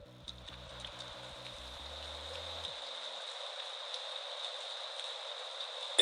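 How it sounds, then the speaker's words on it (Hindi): Heavy rain falling as a steady, quiet hiss that continues without a break, with a faint musical tone underneath and a few soft low notes at the start. "इतनी तेज बारिश हो रही है और मेरे पास तो छाता भी नहीं है।"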